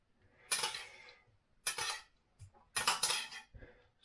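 Heated canned beans, warmed in an oven, scraped from the tin onto a plate in three or four clattering bursts of metal on dish, close and alone with short quiet gaps.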